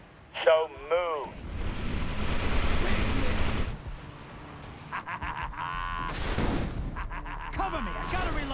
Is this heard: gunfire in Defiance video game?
yes